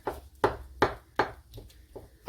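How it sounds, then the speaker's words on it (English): A knife thuds repeatedly against a cutting board, roughly chopping cooked oysters, about six uneven chops in quick succession, close and fairly crisp. "just a good rough chopping"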